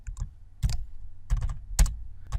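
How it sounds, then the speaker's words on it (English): Fingers typing a file name on a computer keyboard at a command prompt during a Python tutorial, in quick close-up bursts of clicking keystrokes separated by short pauses, with no voices. "start typing the name of that file, and tab to get the complete file name"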